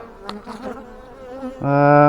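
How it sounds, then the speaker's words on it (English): Honey bees crowd a hive frame during an inspection, with soft scattered buzzing that swells near the end into a loud, steady close-up drone. "Lots of bees on here, and very, very calm at the moment"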